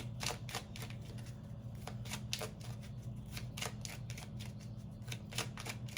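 A deck of cards is shuffled close by in a quiet room, giving a rapid, dense run of soft flicking riffles over a faint low hum.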